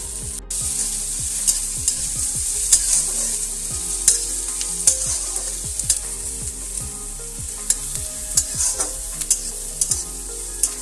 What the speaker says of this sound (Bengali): এবারে আমি দিয়ে দিচ্ছি এর মধ্যে কুচনো রসুন, কুচনো আদা এবং কুচনো পেঁয়াজ।